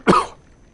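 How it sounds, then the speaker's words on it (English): A man with a cold lets out a single short, rough cough, close and loud, fading quickly into quiet. "I got a little bit of a cold, so bear with my coughing"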